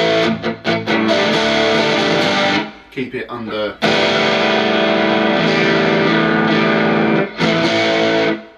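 An electric guitar played through a TC Electronic Grand Magus distortion pedal rings out in sustained crunchy overdriven chords, with a short pause for a few spoken words midway.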